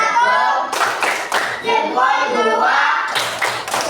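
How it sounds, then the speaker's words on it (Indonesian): Schoolchildren in an elementary classroom clap a rhythmic 'tepuk hebat' cheer, bursts of hand claps in patterned groups mixed with chanted voices and a teacher speaking over them. "Ayo kita mulai tepuk hebat."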